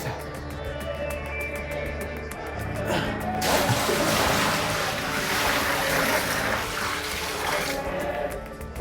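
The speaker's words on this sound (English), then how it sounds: "Dumping buckets of water on our heads, so no running water." Buckets of cold water tipped over heads for showering in a place without running water in Danlí, Honduras, making a broad splashing rush that swells and continues for several seconds over faint background hum.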